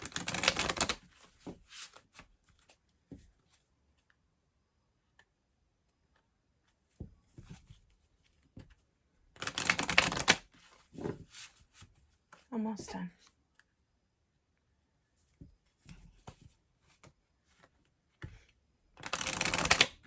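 A deck of cards is shuffled by hand during an intuitive reading, in three bursts of crisp riffling separated by quiet stretches, with someone briefly speaking between them.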